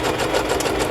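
A sewing machine stitches through thick layered fabric with a fast steady mechanical whir, close and continuous for about a second.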